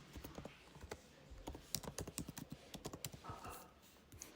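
Fingers typing an email address on a computer keyboard during an online Canada visitor visa application, a quick, irregular run of close, crisp key clicks with short pauses, fairly quiet and with no talking.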